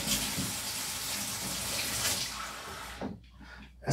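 Warm tap water running from a kitchen faucet to measure out for dough: a steady loud gush that cuts off near the end, leaving a faint drip and brief handling noise.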